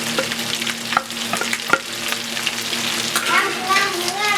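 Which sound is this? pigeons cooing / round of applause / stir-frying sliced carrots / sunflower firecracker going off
stir-frying sliced carrots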